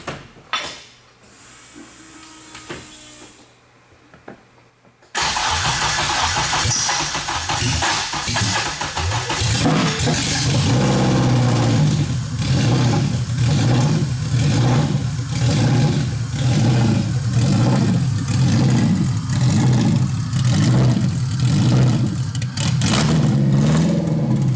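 A turbocharged Honda Civic engine, freshly swapped and run without coolant, cranks and fires for its first start after a few quiet seconds, then idles loud and close with a steady pulsing rhythm and rises in repeated revs.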